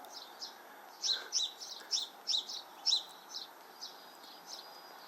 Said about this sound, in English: there's a little sparrow popping its head out of the bird box in the back garden here waiting to get fed